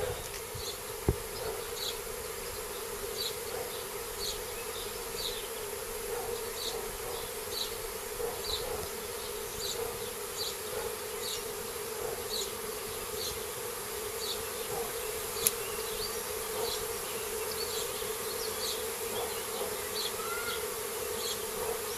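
A large swarm of honeybees buzzing around a chimney outdoors, a dense, steady drone of many wings with individual bees zipping past, continuous and fairly loud throughout.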